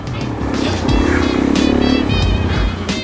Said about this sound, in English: Big burnout.